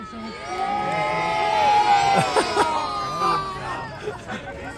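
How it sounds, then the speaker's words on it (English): A crowd cheering and whooping loudly, with excited shouts and children's voices rising and falling over a steady roar of babble. "Let me hear a big cheer"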